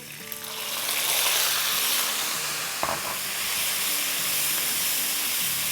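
Grated onion sautés in a pan with a steady, even hiss and sizzle through the whole stretch, louder at first and then settling, with one brief clatter of a spoon or pan near the middle.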